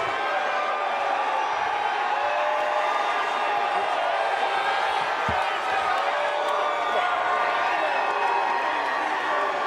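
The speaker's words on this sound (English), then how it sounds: "You hear the crowd, right?" Fans at the Denver Nuggets' 2023 championship parade cheer and roar in a dense, continuous wall of crowd noise. It stays loud and steady throughout, with nearby voices talking over it.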